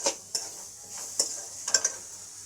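Chana masala with chickpeas is stir-fried in a pan, with a faint sizzle under several sharp clicks and scrapes of a spatula against the pan at uneven intervals; no voices.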